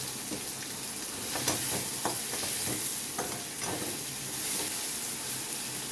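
Onions fry in a pan with a steady, dense sizzle, close and continuous, with faint stirring scrapes and pops scattered through it.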